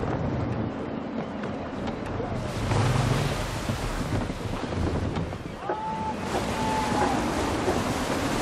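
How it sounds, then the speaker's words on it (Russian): Gusty wind on the open sea in the video game Assassin's Creed III, with surf and waves washing around a sailing ship; a continuous full roar of wind and water, loud and close, with a couple of faint tonal whistles partway through. "При порывистом ветре идти нелегко."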